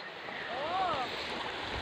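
Sea waves wash onto a beach in a steady broadband hiss with faint wind noise, and a brief tonal whine rises and falls midway through.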